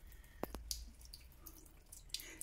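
Water drips from a tap in a few faint, separate plinks and splashes at an uneven pace, close but quiet against a low background hiss.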